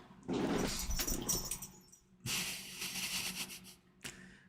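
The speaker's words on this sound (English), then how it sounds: "A dog." A dog growls and snarls in two close, rough bursts separated by a short pause, ending with a brief whimpering snort, with no talking alongside.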